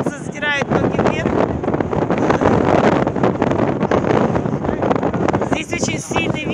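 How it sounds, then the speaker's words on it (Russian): Strong wind buffets the microphone at an outdoor kite festival, a loud, steady roar lasting throughout with gusty fluctuations, while voices talk nearby. "Здесь очень сильный ветер."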